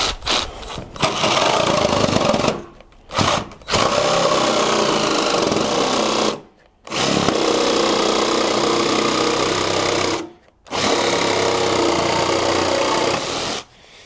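A cordless 4-in-1 power tool saw cuts through two boards at once, a loud, close, buzzing motor roar in several long bursts separated by brief silent pauses.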